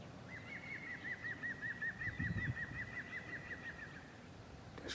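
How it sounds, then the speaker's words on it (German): Larks sing a long run of rapid, repeated chirping notes at a steady rhythm, fairly close, over a soft outdoor farmland background. "das Konzert der Lerchen."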